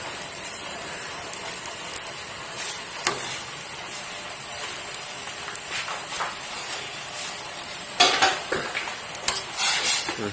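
Bitter melon stir-fries with egg in a pan, giving a continuous close sizzle with scattered utensil scrapes and clinks that grow busier toward the end, and no talking.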